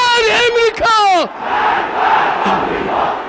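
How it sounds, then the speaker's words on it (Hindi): Crowd at a political rally in Iran chanting slogans in unison, loud, near voices in a couple of rhythmic bursts, followed by a wash of crowd noise. "भीड़ नारे लगाती है"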